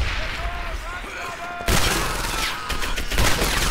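Gunshots ring out during a Medal of Honor Airborne battle, with a sudden loud report partway through followed by continued firing and rumbling combat noise, and brief voices from the game.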